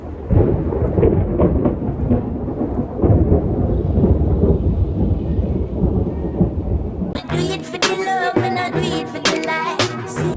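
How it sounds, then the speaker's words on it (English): Deep rolling thunder rumbles loudly over steady rain for several seconds, then gives way to a brighter, crackling patter of rain and sharper sounds. "very cloudy, about to rain, and it's thundering."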